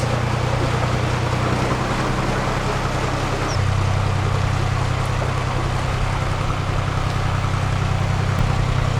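A narrowboat engine chugs steadily at close range on a canal, a low continuous throb that shifts pitch slightly midway, with no talking.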